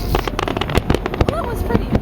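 Canada Day fireworks bursting over Halifax in 2009, a rapid run of sharp cracks and booms with crackling in between, loud and close, while people talk and react nearby.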